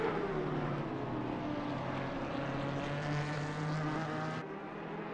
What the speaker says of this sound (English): That characteristic Porsche roar definitely on display here.